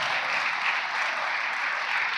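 A church congregation at a Christmas worship service claps loudly together, a continuous dense wash of applause with no pauses.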